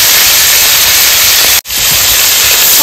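Ginger and cumin pastes hitting hot oil in a village kitchen while fish curry is being made, a loud, dense sizzle that cuts out for an instant midway and then resumes just as strongly.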